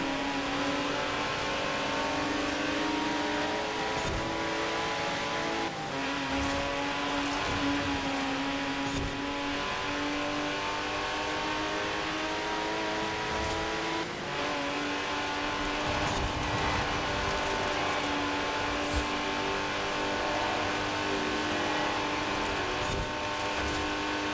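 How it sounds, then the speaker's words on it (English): A Porsche in the racing video game Forza Horizon 4 holds its engine at high revs near the redline, a loud, sustained buzzing drone with brief dips and surges and faint tyre noise, alone without talk. "Now you can see I'm revving the engine to the full potential power, almost going to the red line"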